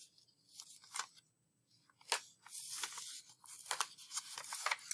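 Paper is handled and folded up close, with quiet intermittent crinkling, rustling and crisp creases in short bursts separated by brief pauses, and no talking.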